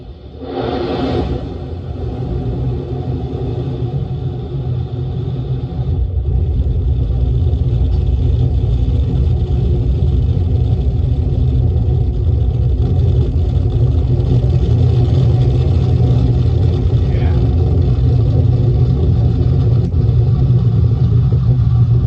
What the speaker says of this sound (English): GLS is go for core stage engine start